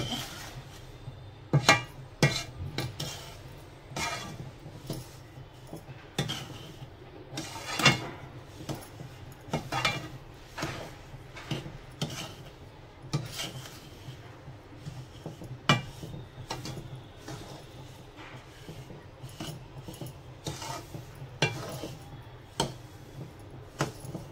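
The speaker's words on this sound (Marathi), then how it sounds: "वेलची पूड पण सगळी मिक्स करून घ्यायची." A spoon scrapes and knocks against a bowl while cardamom powder is stirred into a semolina and sugar ladoo mixture, giving irregular clinks and soft scraping taps at close range with no talking.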